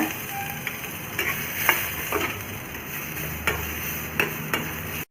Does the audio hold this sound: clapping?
no